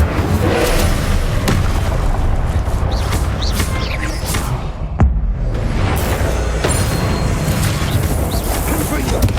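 Incendio fire spell in Hogwarts Legacy, a loud roaring burst of flame and booming impacts in a dense continuous wash, with a sharp crack near the middle and a voice calling out over it.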